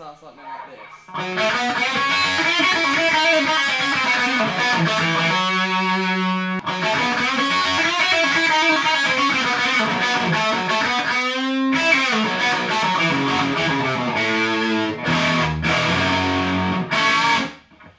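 A distorted electric guitar rips through a rock blues lick at full speed, with quick runs, bends and sustained notes, played on its own.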